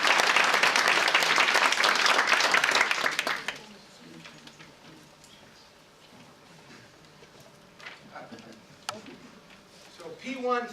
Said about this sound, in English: a big applause for Bob